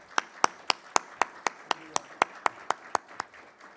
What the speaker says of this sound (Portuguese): Palmas para o professor Canaani.